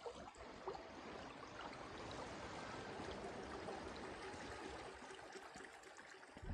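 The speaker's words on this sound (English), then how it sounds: "we have more of this babbling brook" A babbling brook and waterfall in a player house garden in the video game Elder Scrolls Online give a steady, moderately quiet rush of flowing, splashing water with no talk.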